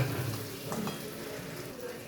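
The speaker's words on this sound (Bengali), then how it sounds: "দিয়ে আবারও চিকেনের সঙ্গে ভালোভাবে মিশিয়ে নিচ্ছি" Chicken stirred and frying in a pan, a steady low sizzle with soft scraping of the stirring running through the whole short stretch at moderate level.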